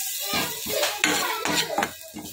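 Onion and ginger-garlic paste masala for a wild mushroom dish is stirred in a pan, a series of close metallic scrapes and clinks of a spoon against the pan in a quick irregular rhythm over a faint sizzle.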